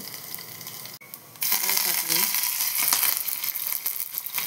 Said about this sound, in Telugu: చారు పోపుకండి ఆవాలు, 2 ఎండుమిరపకాయలు వేసాను, జీలకర్ర, నేను కొంచెం ఒక 5-6 వెల్లుల్లి దంపేసాను. ఇవి వేగాలి ఫస్ట్.